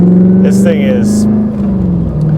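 A 1991 Corvette ZR-1 engine in regular driving gives a steady, loud low drone from inside the car, with a brief gear-change dip and someone talking over it.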